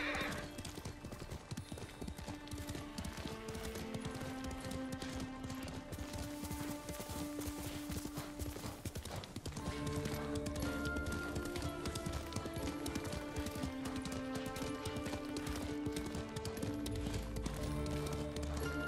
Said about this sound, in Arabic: لتسريع التنقل في الجزيرة الضخمة بطلنا يقدر يستخدم الحصان